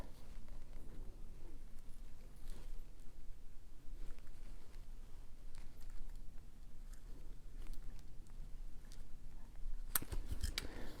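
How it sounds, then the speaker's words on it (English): Small scissors snip the cord tail on a beaded raspberry ice pop bracelet, quiet crisp clicks against a faint background hiss, with a sharper cut near the end. "We'll trim here. Make sure you're only trimming your tail."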